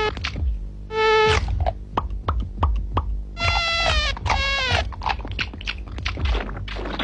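A high, whining mosquito buzz in a 1990s Indian TV advert for All Out mosquito repellent comes in loud, close bursts that rise and fall in pitch, alone without any talking.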